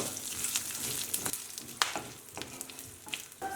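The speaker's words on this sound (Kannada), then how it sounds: "ಲೋ ಫ್ಲೇಮ್ ಇಟ್ಕೊಂಡೆ ಸ್ವಲ್ಪ ಮಸಾಲೆ ಚೆನ್ನಾಗಿ ಹುರ್ಕೊಳ್ಳೋಣ" Ginger and masala frying in a pan on a low flame, a soft sizzle broken by several sharp stirring clinks and scrapes, close and fairly quiet.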